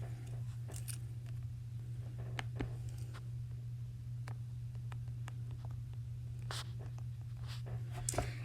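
Pencil or pen scratching numbers onto paper while solving a mixed-number fraction problem, a run of short irregular strokes and taps over a steady low hum, quiet and close, with no talking.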